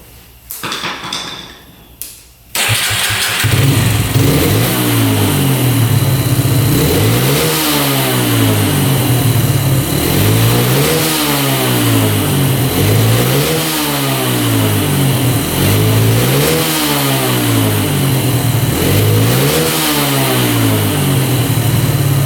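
A quad ATV engine with its carburetor fuel screw turned out about five turns starts up loud and close, then revs over and over in a steady rising-and-falling cycle, each surge swelling and dropping back.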